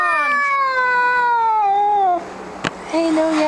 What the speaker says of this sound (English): Hey, no yowling. No hissing.